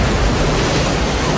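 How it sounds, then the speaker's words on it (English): Godzilla crashes into the Hudson River in a film sound effect: a loud, dense wash of splashing water and surf-like roar holding steady for a moment, with no speech. "He jumped into the Hudson River."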